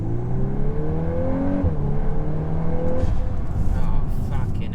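A Volkswagen Golf 8 R with the Performance Pack accelerates hard through several gears, its engine note climbing in steady upshifts under continuous road and wind noise, heard from inside the car.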